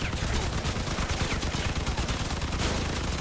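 Gunfire and artillery cannons in the vehicle combat game Crossout, Mad Max style battle: a loud, dense, unbroken barrage of rapid shots and booming blasts.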